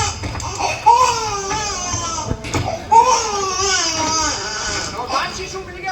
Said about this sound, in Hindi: ये तो किसी नवजात शिशु के रोने की आवाज है।